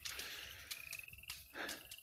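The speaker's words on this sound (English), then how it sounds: "Might take a little while to get used to chattery frogs." A dense chorus of frogs chattering and croaking, with rapid, overlapping calls running steadily and close throughout.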